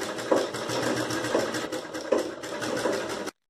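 An electric sewing machine stitches the side seams of a lined blouse, running in a steady, fast mechanical whir with soft periodic thumps, close and uninterrupted until it stops abruptly.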